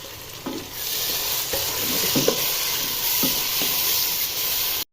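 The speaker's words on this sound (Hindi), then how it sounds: "तो हम इसको भूनेंगे मसाला डालकर।" Onion, tomatoes and chopped raw mangoes frying with masala in a pan, a steady bright sizzle with intermittent scraping stirs and clinks from a spoon, close by and without speech.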